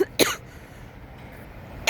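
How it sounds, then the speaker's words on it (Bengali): Two short coughs from a person with a tickly, irritated throat, one near the start and one at the very end, with a low outdoor hush between them. "আমার একটা খুসখুসে কাশি হয়েছে কালকে রাত্র থেকে।"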